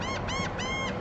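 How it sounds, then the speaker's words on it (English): Two seagulls squabble near the Jamestown ferry, giving three harsh honking squawks in quick succession, close and fairly loud over low background hum. "they're fussing at each other, y'all. Can y'all see those two seagulls sitting there?"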